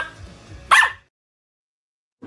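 A dog gives a single sharp, fairly loud bark after some low murmuring, and silence follows.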